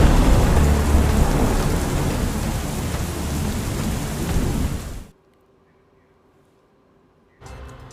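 Heavy rain pours down steadily with thunder rumbling underneath in a stormy Gujarat downpour, loud and dense for about five seconds before cutting to near silence, then the rain noise briefly returns at the end.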